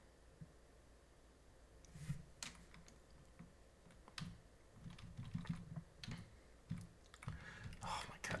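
Keystrokes and clicks on a computer keyboard while navigating a crossword website, a quiet irregular patter of taps that bunch into short bursts, with faint murmuring underneath.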